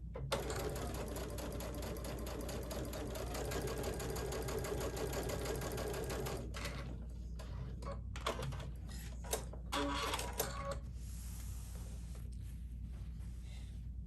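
Sewing machine stitching binding onto a quilt, a loud continuous rapid mechanical whir for several seconds, then stopping into short bursts and handling clicks.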